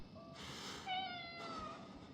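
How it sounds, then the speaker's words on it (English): A single cat in the horror game Conarium gives a drawn-out, wavering meow lasting about a second, fairly close and clear over a low background hum, with no one talking. "Little cat, you wanna come with me?"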